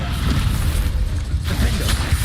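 In the video game Hogwarts Legacy, the Descendo spell lands as a heavy, rumbling boom with a low thud and debris-like clatter, followed by a second softer impact.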